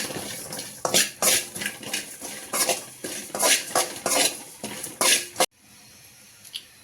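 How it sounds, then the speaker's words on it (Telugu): Cumin seeds are fried in a pan, with a spoon clinking and scraping against the metal in quick, rhythmic strokes, close and clear, before stopping abruptly near the end. "జీరా కూడా ఫ్రై చేసుకోవాలి"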